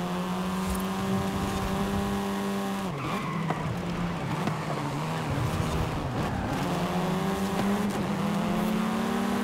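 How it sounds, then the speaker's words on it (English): A race car in Forza Horizon 5 runs hard through a jungle championship event, its engine droning loud and steady with pitch shifts as it shifts and brakes, tires squealing through corners. "Definitely pushing that car to the limits."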